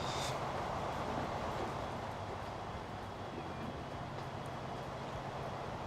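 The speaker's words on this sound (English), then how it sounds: "I just absolutely love taking a train ride." A train ride in the transport simulation game Transport Fever, with a continuous rolling rumble and steady clatter of wheels on rails, fairly even and unbroken, with no talking.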